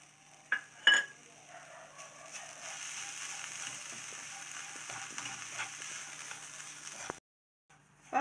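Rava and grated coconut dry-roasting in a pan for coconut rava burfi, giving a soft, steady scraping rustle with a few sharper clicks of stirring, close and fairly quiet, with a brief silence near the end.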